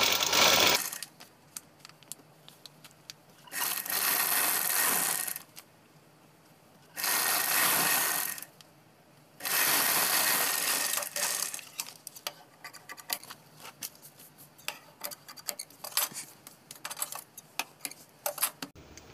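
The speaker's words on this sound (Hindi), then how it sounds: "दोस्तों हम इसमें एक पैर हट के सिलाई लगाएंगे।" A sewing machine stitches a sleeve design in several loud bursts of rapid whirring separated by pauses, followed by scattered light ticks and clicks of handling fabric and the machine.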